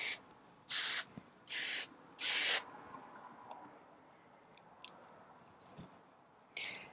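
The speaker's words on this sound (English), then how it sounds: "pull it up, get my hairspray" Hairspray is sprayed onto a brushed-out 1950s wet-set haircut in three short, loud, close hissing bursts. Quiet rustling and faint handling sounds follow.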